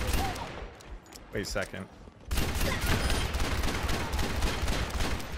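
Ashe's rifle in the video game Overwatch fires rapidly in Overwatch, a dense stream of close, sharp shots that runs on without pause, with a brief spoken remark and scattered earlier shots before the burst.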